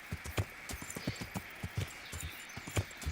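Horse hooves in Kingdom Come: Deliverance, clip-clopping in a steady, rhythmic trot with crisp, close strikes and no talking.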